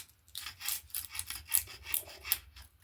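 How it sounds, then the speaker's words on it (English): A screwdriver scrapes red paint off a 16-valve Punto engine for a Cinquecento track car, with quick repeated rasping strokes in a close, moderately quiet rhythm and no voices. "So hopefully I can actually get most of this red paint off just scraping it."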